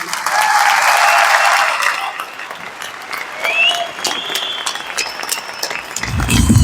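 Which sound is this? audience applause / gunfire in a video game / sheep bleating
audience applause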